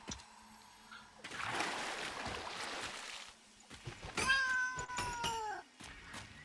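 A hatchling creature in the Satisfactory video game lets out a few meow-like, cat-like wavering cries near the end, after a burst of splashy game noise, close and clear with no talking.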